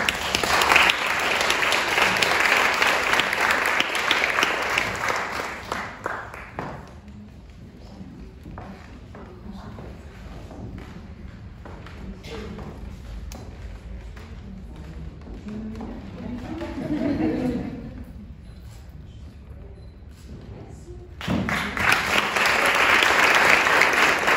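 An award ceremony audience claps loudly for several seconds, the applause drops to scattered claps and quieter room sounds with some talk, then loud clapping swells again near the end.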